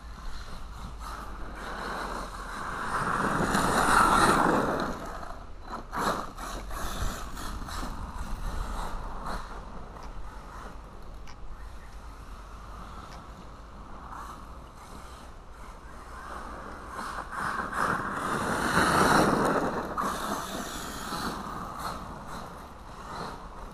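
An Arrma Fireteam RC car with new dBoots Copperhead tires runs outdoors on a slope. Its motor whine swells loudly twice over a steady mechanical hum, with no talking.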